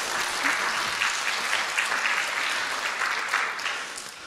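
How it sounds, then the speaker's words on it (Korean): A church congregation applauds at a seventeenth-anniversary Sunday service, a dense, steady wash of many hands clapping close and loud throughout, easing slightly at the very end. "우리 하나님 앞에 한번 영광의 박수 한 번 더 하겠습니다."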